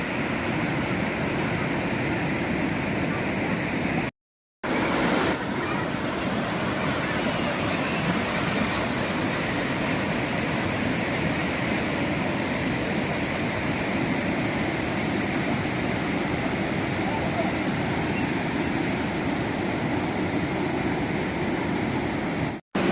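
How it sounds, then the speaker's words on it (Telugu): Puthugunta waterfall near Yeleswaram, Andhra Pradesh, swollen by rain, roars loudly and continuously as a dense, steady wash of rushing water that never lets up; one brief dropout, no voices. "చూడండి, ఆ వాటర్ సౌండ్ అనేది ఎంత పెద్దగా వస్తుందో"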